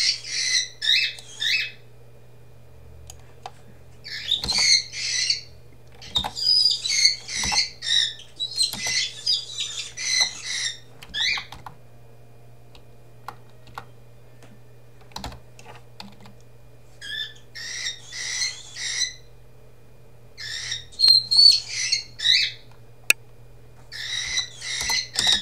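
Birds squawk and scuffle in repeated harsh, chattering bursts over a steady low electrical hum, with short gaps between flurries and no voices.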